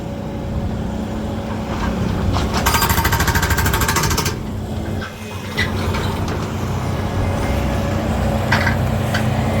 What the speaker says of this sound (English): We bought that jackhammer last year.